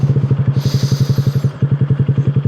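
A motorcycle engine idles close by with a steady, rapid thumping pulse, while a brief hiss of wind or passing noise rises over it midway.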